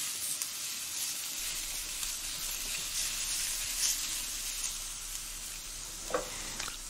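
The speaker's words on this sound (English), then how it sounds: "we'll let the folks hear the sizzle for a second." Pumpkin curry sizzles and crackles steadily in a hot pan, a soft continuous hiss with occasional pops, heard alone and fairly quiet.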